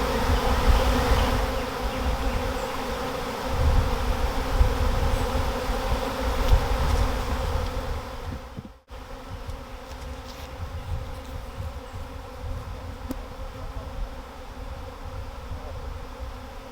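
A dense swarm of honey bees buzzes continuously and close by in a yard in Whiteville, North Carolina, a steady droning hum with no voices.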